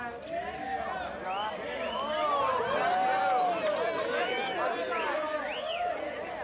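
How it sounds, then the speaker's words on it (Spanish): A big street crowd in a 1975 bank-siege film scene jeers and shouts, many overlapping voices rising and falling in a continuous, moderately loud roar. "Se escuchan abucheos o burlas entre la gente."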